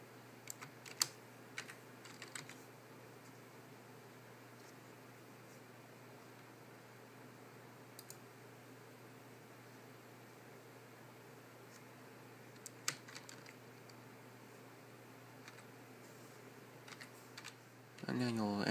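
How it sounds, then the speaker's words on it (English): A username typed on a computer keyboard makes scattered, faint, clicky keystrokes in short bursts over a steady low hum, with long quiet pauses in between. "I'm going to go ahead and type in my username."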